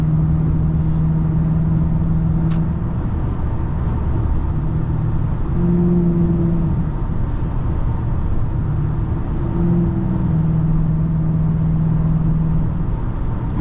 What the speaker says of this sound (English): My exhaust is pretty loud